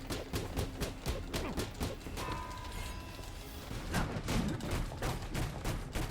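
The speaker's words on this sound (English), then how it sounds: "Oh, he's using flashbangs now." Flashbangs going off during a fight in the video game Batman Arkham Origins, heard as a fast, dense run of sharp cracking bursts over a busy game mix, loud and close throughout.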